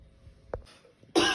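A sick young man with fever and fatigue gives a short, dry cough, followed by a louder breathy burst, close and fairly quiet.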